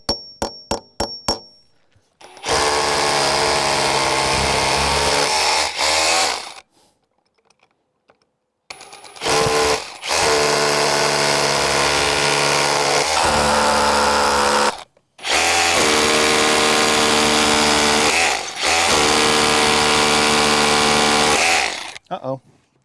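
Loud power drilling into concrete stairs runs in long sustained bursts separated by brief pauses, with a few sharp metallic clicks at the start.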